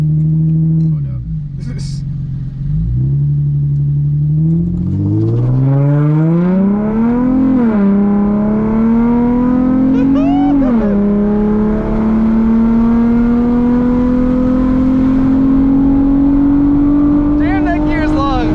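A turbocharged Subaru BRZ pulls hard through a long gear while racing, the engine note climbing steadily and loud from inside the car with turbo whine and brief shift dips, as voices talk over it.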